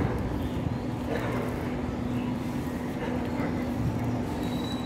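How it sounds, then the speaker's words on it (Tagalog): A train passes in Tai Po with a steady low rumble and rolling hum, a faint high whine appearing toward the end, heard at moderate distance amid outdoor ambience. "Train."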